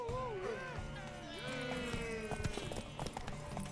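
Horse hooves clip-clop at a steady trot in The Witcher 3, mixed with game sounds, a brief whinny-like tone and voices in the background.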